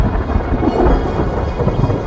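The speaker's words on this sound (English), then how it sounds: "They bring only thunder and lightning, but none of the rains that are so desperately needed." Low, rolling thunder from storm clouds over dry African plains, a continuous deep rumble that swells and fades with no rain falling, steady and fairly loud throughout.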